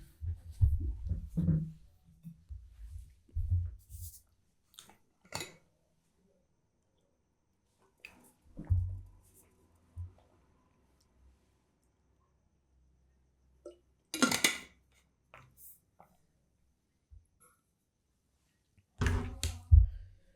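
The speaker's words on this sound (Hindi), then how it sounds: "अगला सवाल देखने से पहले पानी पीते हैं" A teacher drinks water and handles a cup: scattered soft thunks, clinks and swallowing gulps separated by long silences, close and fairly quiet, with no talking.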